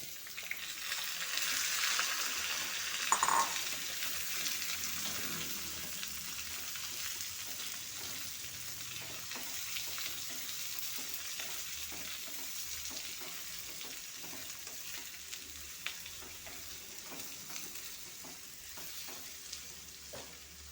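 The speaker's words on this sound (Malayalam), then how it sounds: "പിന്നെ ചെറുതായിട്ടൊന്ന് ഇളക്കി കൊടുക്കാം ഇതിലേക്ക് വെള്ളരിക്ക ഇട്ട് കൊടുക്കാം" Cucumber sizzles in a frying pan, a steady soft crackle running throughout, broken by faint scrapes and light taps of a spoon being stirred through the pan.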